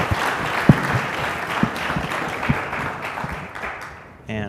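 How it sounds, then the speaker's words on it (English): Audience applause for a panel at a carbon management projects event, steady clapping from a crowd that fades out after about four seconds as a voice begins. "Let's give them all a round of hand of applause."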